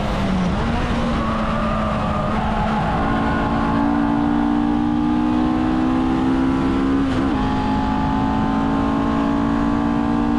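Race car at speed on the Road America circuit, a loud sustained engine note rising through the gears with shifts and steady acceleration, heard close from inside the car.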